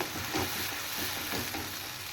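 A paste of garlic, onion and green and red chili fries in a pan, giving a faint, even sizzle broken by a few soft stirring scrapes, with no voices.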